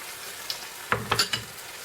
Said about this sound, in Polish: to wszystko wylewamy, te wszystkie jajeczka